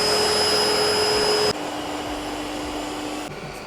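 An Ecovacs Deebot T10 Omni robot vacuum hums with a steady broadband whoosh, dropping to a quieter tone at one point and easing slightly lower again near the end as its suction modes change.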